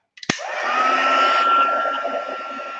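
A hair dryer switches on with a click and blows steadily to dry printed tissue paper on a mixed-media craft tag, a close, loud whooshing hum that holds steady for a few seconds.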